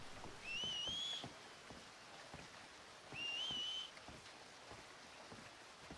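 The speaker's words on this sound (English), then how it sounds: "Did someone whistle out here?" Two short rising whistles within the Red Dead Redemption 2 game world, each about a second long, heard over a soft steady outdoor wash with no speech.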